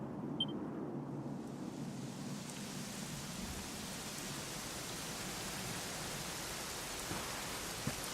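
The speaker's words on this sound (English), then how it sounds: "it was raining like this the last time I ever saw her" Steady rain falls in a scene from the Dragon Quest XI video game, a continuous even hiss of downpour that runs the whole time with low rumbling underneath and no talk over it.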